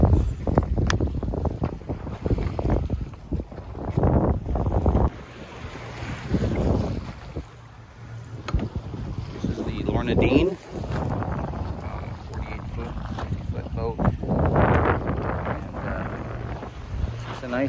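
A sailboat glides in light wind off Honolulu, with gusty wind buffeting the microphone, water washing along the hull and people talking over it.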